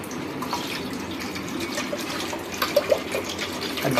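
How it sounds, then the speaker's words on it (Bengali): Water poured slowly from a bottle into a lassi mixture runs in a steady close splashing trickle, with a few small drips and knocks toward the end. "বোতলটা আস্তে করে আস্তে আস্তে একটু জল এতে ঢেলে দেবো"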